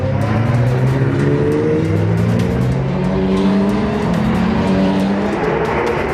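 Race cars in a Roscar 2022 season finale at the Magny-Cours circuit, with several engines roaring continuously and loudly, their overlapping pitches rising and falling as the cars rev and pass.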